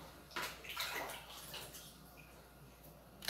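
Liquid baking soda detergent poured by the litre into a large batch, a steady splashing gush of liquid running for a few seconds, fairly close.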